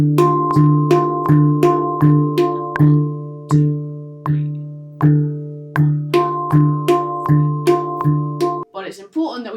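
A handpan is struck in a steady pulse that alternates louder big beats with softer offbeat notes, each tone ringing clearly and close, with a short break midway and a brief rustle at the end.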